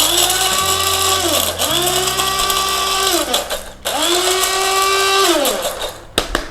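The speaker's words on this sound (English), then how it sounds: "help the blender blend it up, and we're going to blend the coriander and the pepper together" An electric blender grinds coriander and pepper in loud close bursts, its motor whining up and down in pitch with each pulse, briefly cutting out between runs and ending in a couple of knocks.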